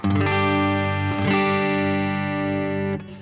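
An electric guitar on its neck pickup rings out one sustained, warm chord with a slight shimmer, held for a few seconds before it is cut off.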